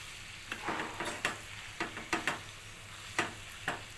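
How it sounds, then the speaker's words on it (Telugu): Salt and turmeric stirred into a frying prawn and egg masala curry, with a low sizzle under a series of distinct spatula scrapes coming in small rhythmic bursts. "వేసి బాగా మిక్స్ చేసుకుందామండి"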